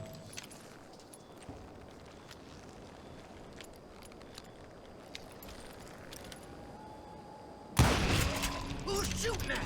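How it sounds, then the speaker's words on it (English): Gunfire in Call of Juarez: Gunslinger bursts in late as a loud, sudden volley of shots. Before it there is only a low, quiet ambient bed. "Who's shooting at us?"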